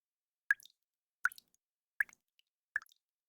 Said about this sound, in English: Water's coming from the ceiling!